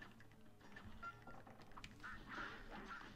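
Cartoon ducks quack in the video game Cuphead, several short nasal calls scattered over busy, faint game sounds and music.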